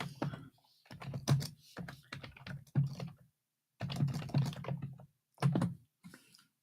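Computer keyboard typing and mouse clicks come in close, fairly loud bursts of rapid taps separated by short pauses, with no talking.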